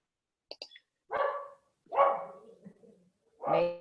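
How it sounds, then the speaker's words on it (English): A dog barks three times over a quiet background, each bark loud, close and separated by pauses, with a couple of faint high yips just before. "I've got a barking dog."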